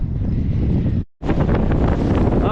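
Strong wind buffets the microphone beside a lake at Fort Peck with a loud, continuous roar, broken once by a brief moment of near silence before the gusting resumes.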